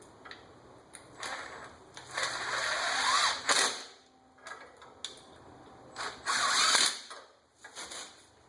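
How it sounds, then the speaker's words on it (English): A hand ratchet tightens bolts on a Polaris Sportsman ATV starter, giving close, quiet bursts of rapid clicking in several separate strokes with short pauses between them. "I usually give them a little touch with the hand ratchet"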